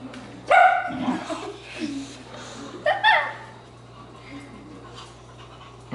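A dog barks twice, short sharp yelps a few seconds apart, near the microphone, with panting and a person's voice in between over a steady low hum.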